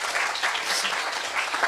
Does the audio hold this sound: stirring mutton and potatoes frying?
no